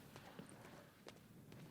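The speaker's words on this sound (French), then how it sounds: "parut un cheval de couleur pâle." A pale horse's hooves clip-clop in a few faint, unhurried steps as a film sound effect, quiet and somewhat distant.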